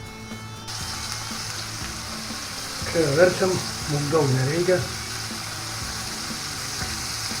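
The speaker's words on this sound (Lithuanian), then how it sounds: "Va, pasūdom truputėlį ir kepam." Skinless chicken pieces frying in a pan with a little salt: a continuous close sizzle runs throughout, and a person speaks over it in the middle.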